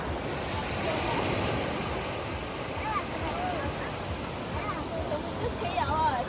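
Waves wash in at the water's edge under a steady rush of wind, a continuous close roar with wind buffeting the microphone and a voice faintly present.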